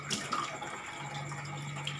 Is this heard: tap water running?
yes